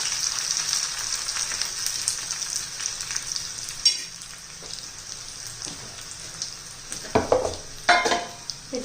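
Crushed garlic fries in hot oil in a pan, a soft continuous sizzle with scattered stirring scrapes and a few louder clatters near the end.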